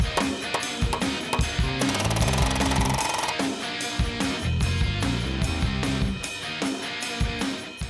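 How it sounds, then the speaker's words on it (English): Rapid pneumatic hammering of a palm nailer driving framing nails, in repeated bursts, loud and close, with short pauses between runs of fast percussive blows. "I started the nails with a hammer and then I drove them in with a palm nailer"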